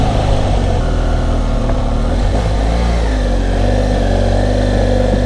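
A motorcycle engine revs hard and continuously, close and loud, while climbing a steep, challenging hill road in Spain.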